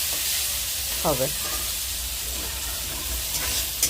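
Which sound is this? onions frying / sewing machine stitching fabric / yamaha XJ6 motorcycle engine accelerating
onions frying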